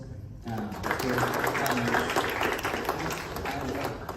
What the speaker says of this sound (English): let's have a good applause